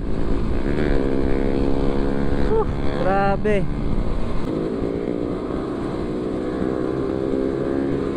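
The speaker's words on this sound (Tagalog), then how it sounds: "maalog yung tambutso" Motorcycle with a loose, rattling exhaust on a ride, a loud continuous engine drone close by with a brief rising rev in the middle, while someone speaks over it.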